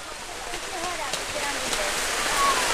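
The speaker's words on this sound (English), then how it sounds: "you can hear the rain" Rain pours down steadily during an outdoor recreation football game, a dense, even hiss lasting throughout, with faint voices murmuring beneath it.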